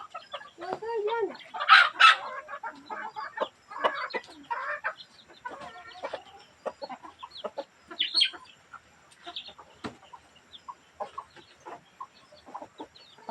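Chickens and roosters cluck and squawk in lively bursts close by during feeding, with a person speaking briefly among them.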